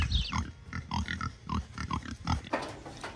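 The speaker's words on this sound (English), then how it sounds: "when I give the pigs their fermented dairy products" Pigs grunt and oink repeatedly in irregular bursts while being fed fermented dairy inside a livestock trailer, the snuffling calls close and fairly loud, with a rustling burst near the end.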